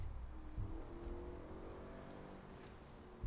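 Car engine in the Forza racing game, a quick car that handles like a muscle car: a steady, low rumbling drone with a slight rise in revs, continuous and fairly close.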